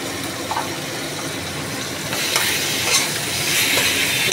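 Masala with garam masala and black pepper sautés in a pan with a splash of water, giving a continuous loud sizzle and frying hiss with scraping stirring strokes throughout.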